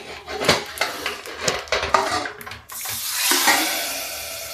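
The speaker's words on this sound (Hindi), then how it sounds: "अब ये तड़का इसमें हम लगा देते हैं," Sizzling splashes and clattering pan sounds as a hot cumin tempering is poured into a kofta dish, with a steady frying hiss building toward the end.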